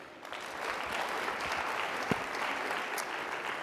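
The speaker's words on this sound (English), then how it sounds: "Round of applause for Bishop." Steady audience applause greets Bishop T.D. Jakes at a media discussion event, a continuous wash of clapping heard from a distance at low volume.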